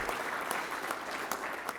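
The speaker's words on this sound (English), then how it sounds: "Can you give no new taxes a huge round of applause?" Steady applause from a large press club audience, a dense continuous patter of clapping at moderate distance with no pauses.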